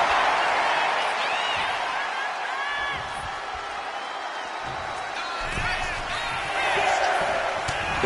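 Wrestling crowd noise from the WWE 2K25 video game, a steady roar of cheering and whoops with a swell toward the end, heard alongside scattered arena thuds.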